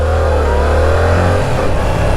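A small motorcycle engine revs hard and close, holding a loud, steady buzzing drone for a couple of seconds.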